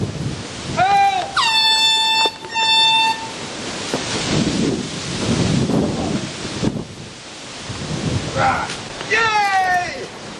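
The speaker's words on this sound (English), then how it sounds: "But with the brand new air horn, that will never happen again." A loud air horn blares in short blasts at the start and again near the end, while shouting voices and rough noise fill the stretch in between.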